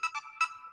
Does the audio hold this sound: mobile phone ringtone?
yes